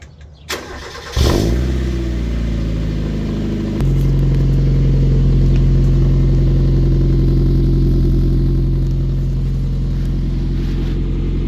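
A 1990 Eunos Roadster engine cranks and catches near the start, then settles into a steady, loud, close idle with a deep low drone that holds for the rest of the clip, with no talking.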